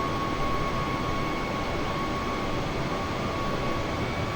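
A Boeing 737-800 in Microsoft Flight Simulator, recreating the Jeju Air crash at Muan, South Korea, gives off a steady, even jet engine roar and wind rush with a faint constant whine, unbroken throughout.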